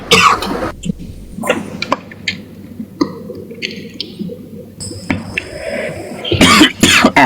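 Several scattered coughs, one fairly loud near the end, break up quiet background noise with faint clicks and brief tones.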